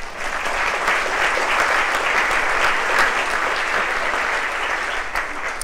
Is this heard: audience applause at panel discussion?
yes